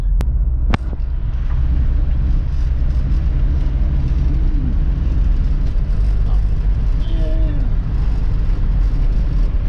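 A 1971 Mercedes 220D diesel car drives steadily uphill with a constant low engine rumble. Its whine rises and falls as it shifts up through the gears, with a brief bump near the end.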